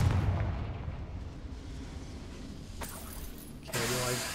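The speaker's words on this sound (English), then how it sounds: "Okay, well, I started this boiler." A boiler rumbling into life after a spell in Hogwarts Legacy, a deep heavy roar that slowly fades, then a sharp burst and a loud mechanical hum kicking in near the end.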